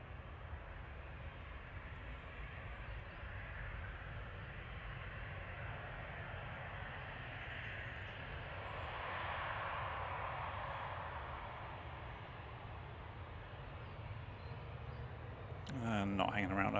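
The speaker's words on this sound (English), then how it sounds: "GLCYM headed off to Dublin, E190, flight" An Embraer E190 jet departs for Dublin at Manchester Airport, a broad, steady engine roar heard from some distance, swelling slightly midway, with talk over it.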